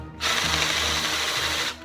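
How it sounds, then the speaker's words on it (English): A power drill boring holes while building a studio light, one sustained whirring burst of under two seconds that starts and stops abruptly, loud and close. "I'm gonna have to drill some holes here and here."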